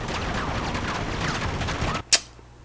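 Dense, sustained gunfire from the Uncharted 3 video game plays in a splitscreen co-op match set in Syria. The loud, constant barrage cuts off into one sharp, bright blast and a short fading tail.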